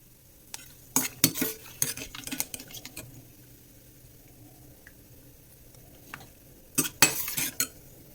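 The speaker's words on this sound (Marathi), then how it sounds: "खोबरं हे लालसर असं आपण भाजून घेऊ असं लाल होईपर्यंत खोबरं छान भाजून घ्यायचं आहे" Dry coconut is roasted in a pan for corn chivda and stirred in close bursts of scraping and clattering, with a quiet stretch between, and no talking.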